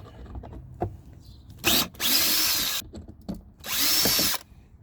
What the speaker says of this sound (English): We will try and use power tool in this case.